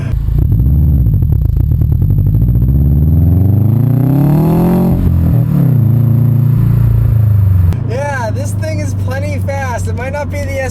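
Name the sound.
2013 Subaru WRX with 5-speed manual accelerating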